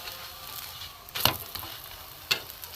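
An egg and potato paratha fries slowly in a little oil over low heat, giving a faint, even sizzle broken by two sharp taps of a utensil.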